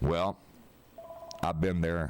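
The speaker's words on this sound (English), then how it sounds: "Oh, that's the phone or something." A telephone sounds during a radio show, a brief electronic ringing tone in a short gap between the host's talking, heard fairly close.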